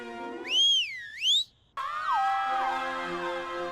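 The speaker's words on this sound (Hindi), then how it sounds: "लेकिन सीटी बजाने के बाद ही भागना है" A referee-style whistle blown to start a footrace at home, two rising-and-falling shrill blasts, loud and close, followed by a burst of excited voices and noisy commotion as the runners set off.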